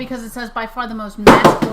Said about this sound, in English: Oh, it was your keyboard.